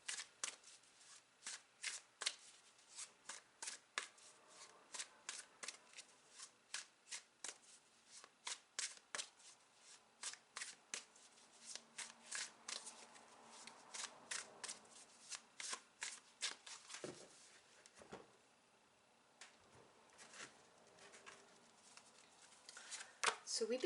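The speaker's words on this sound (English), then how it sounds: "Okay, let's clarify with the tarot" Tarot cards shuffled by hand in a steady stream of rapid crisp riffling flicks, close and continuous for over twenty seconds, with a quiet voice at times underneath.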